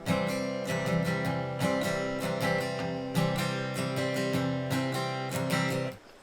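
An acoustic guitar strums chords in a down-and-up pattern, sharp strokes falling in a steady rhythm over ringing chords, played alone and fading at the end.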